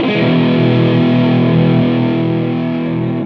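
Heavily distorted electric guitar played through a Marshall AVT2000 amplifier, one sustained overdriven chord ringing loud and alone for about three seconds before starting to fade.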